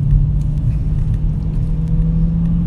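Dodge Scat Pack in third gear near 40 mph, a loud, steady low engine rumble and drone with tire noise, heard close up from inside the car with no talk.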